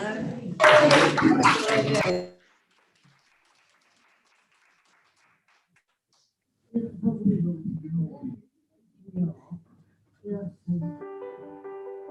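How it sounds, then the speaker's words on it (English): Clapping and cheering for Arden House at a Festival of Thanks, a dense burst of hand claps for about two seconds, then near silence before scattered voices talk. "So the first cheer is for Arden House."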